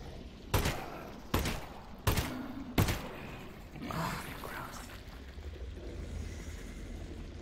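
Four sharp gunshots in Half-Life: Alyx, fired at headcrabs in VR, crack out at a steady pace, each standing alone, and then quieter game ambience and rumble carry on.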